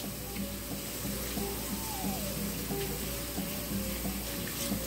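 Tap water runs steadily into a kitchen sink while hands are washed during pumpkin cake roll baking, a continuous moderate hiss with faint clinks and household hum in the background.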